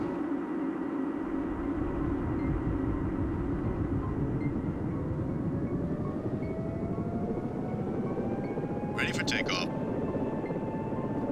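Turbines of a BK-117 helicopter spool up in a flight-simulation game, a loud continuous engine whine with a slowly rising tone over a steady rumble and a brief clatter near the end.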